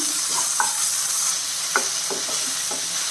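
Ginger garlic paste fries in a hot pan for a breadfruit curry, a steady bright sizzle with soft scraping taps of a spoon stirring it, close and continuous without any voices.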